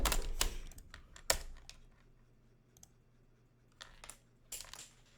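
Keys are pried off a computer keyboard, giving sharp plastic clicks and snaps in scattered bursts with quieter rattling between, fairly faint and close.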